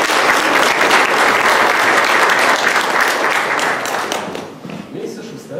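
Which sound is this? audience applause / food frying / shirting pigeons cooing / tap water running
audience applause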